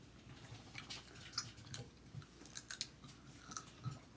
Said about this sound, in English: I'm still chewing on this side.